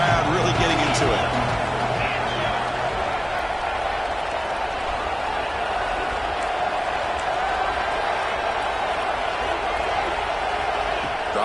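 A stadium crowd roars at a college football game between Northwestern and Texas Tech, with a continuous broad wash of cheering under a commentator's steady talk.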